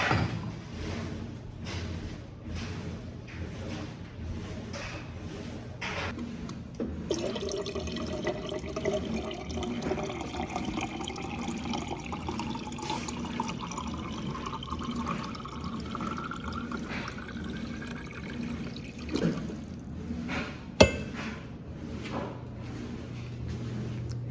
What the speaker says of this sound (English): I'm gonna go ahead and fill my water up first